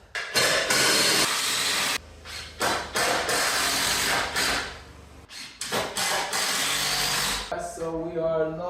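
A ratchet clicks in rapid bursts while tightening a fastener on a spray bottle shelf, loud and close, with short pauses between runs and a voice speaking near the end.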